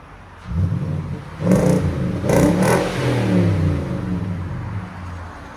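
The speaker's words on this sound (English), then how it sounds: "He's got to really rev it to get it to 100." A 2017 Nissan Titan SL with a 5.6L V8 and a 14-inch Magnaflow exhaust revs in deep, close bursts. The engine swells and falls several times over a steady idle rumble, with no talk.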